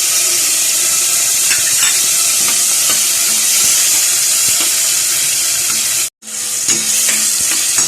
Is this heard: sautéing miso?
yes